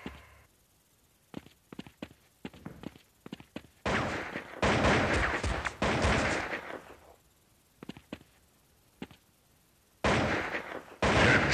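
Gunfire in the Critical Strike counter-terrorist shooter game: a run of sharp single shots, then longer sustained bursts of rapid fire, with further isolated shots and another heavy burst near the end, loud and close.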